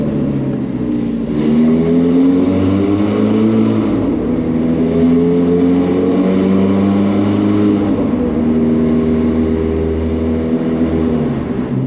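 A Ferrari engine warming up from cold at low revs while rolling, giving a loud, steady, deep harmonic rumble with gentle pitch wavers and no hard revving.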